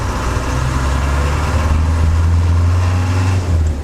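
A 60-year-old Land Rover engine pulling in gear with the throttle flat out, a loud, steady low rumble that rises slightly in pitch but gains little speed over a few seconds.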